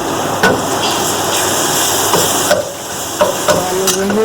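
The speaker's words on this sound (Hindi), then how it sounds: "अब मैं इसके अंदर लहसुन अदरक का पेस्ट मिला रही हूँ। लहसुन अदरक का पेस्ट अच्छा सा भून जाए।" Ginger garlic paste frying with onions in a pan for beef gola kabab curry, a steady close sizzle broken by a few sharp clinks of a spoon or spatula against the pan.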